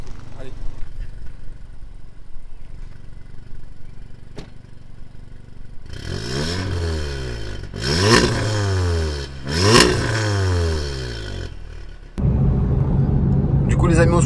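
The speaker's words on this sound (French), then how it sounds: "je vais te mettre 2-3 coups de gaz histoire que tu puisses écouter un petit peu pour voir la différence" An Audi S3 with its catalytic converter removed idles roughly, then gives three sharp throttle blips whose revs rise and fall. It settles into a louder, deep rumble at the end.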